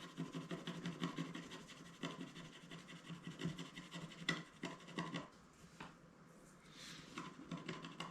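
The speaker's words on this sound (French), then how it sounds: "On va garder quand même la tradition de d'abord la carte à gratter" A scratch card is scraped in rapid, close rubbing strokes, a dense rasping rhythm that pauses briefly near the end before resuming.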